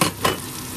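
Anchovies frying in peanut oil in a pan, a loud close sizzle with a brief stirring scrape, with no talking.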